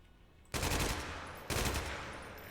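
Colt Commando rifle in a video game fires two loud sustained automatic bursts, the second starting about a second after the first, close and dense with no voices.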